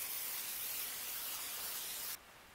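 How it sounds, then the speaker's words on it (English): Nonstick cooking spray hissing onto a pan in one steady, close burst of about two seconds, then cutting off abruptly. "I spray my pan with nonstick spray as well."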